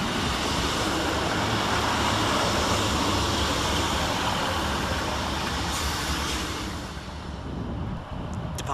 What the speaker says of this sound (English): Departing the station now is 156439 and 156502 with the 1608 Scotrail service from Kilmarnock to Glasgow Central.